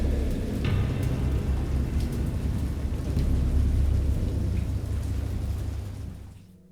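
A heavy thunderstorm with steady downpour and deep rolling thunder rumbles loudly and continuously up close, then fades out toward the end.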